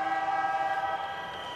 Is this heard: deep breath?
no